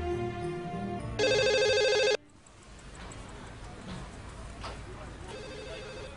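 A telephone rings with a bright electronic ringtone burst lasting about a second, loud and close, followed by quieter room sound and a faint repeat of the ring.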